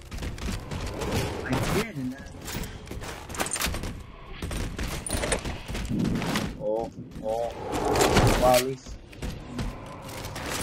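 Needler fire in the Halo 4 video game, a clatter of quick bursts and thumps that come in uneven clusters across the clip, with players talking over it.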